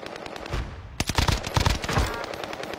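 Rapid bursts of automatic gunfire in a video game rattle in quick, uneven volleys, loud and close, with short gaps between strings of shots.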